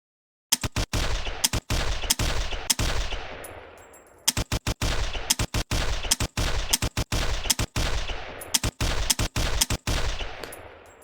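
Bursts of automatic AK-12 rifle fire from a video game, loud and close, in several rapid strings of sharp shots separated by short pauses and decaying tails.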